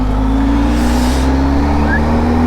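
A motorcycle engine idling or running steadily on an abandoned road, a constant low drone with a stable hum, moderately loud and close, without a rev.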